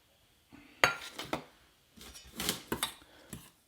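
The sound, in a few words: mixing jalebi batter with yogurt in a bowl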